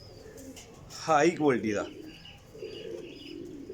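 A pair of pigeons coos briefly and distinctly at mid distance, with a burst of low gurgling calls, while someone talks quietly around it.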